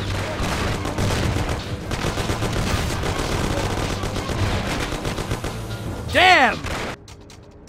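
Rapid gunfire crackles through a shootout in the Mafia video game, dense bursts running under shouting voices, then a sharp loud boom-like whoosh near the end before the noise cuts away.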